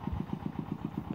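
Diesel engine of a farm tractor (rot thai) pumping groundwater up from a well at a rural cattle pen without electricity, a rapid steady chugging putter close by, running alone.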